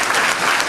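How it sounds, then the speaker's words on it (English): Dense, even applause from a room full of people at a Tea Party meeting in Regent Hall, loud and close for a brief moment with no pauses. "I want you guys to really clap for yourselves"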